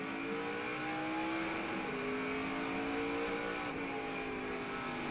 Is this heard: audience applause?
no